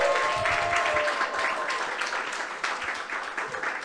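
An audience bursts into sustained applause for the founder of a Filipino Hollywood actors panel, the dense clapping steady and fairly loud throughout, with a voice faintly audible beneath it.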